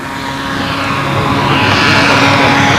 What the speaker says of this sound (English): Oh, the engine sounds great, Billy.